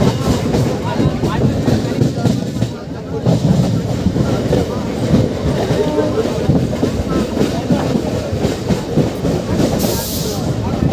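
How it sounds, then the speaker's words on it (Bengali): Local train arriving at Baruipur Junction makes a loud, dense clatter of wheels and carriage rumble with hissing. A voice talks over the noise, which is heard from close by. "তো ট্রেন এসে পৌঁছালো বারাইপুর জংশনে।"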